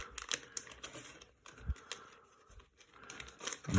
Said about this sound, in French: je donne encore un scotch là.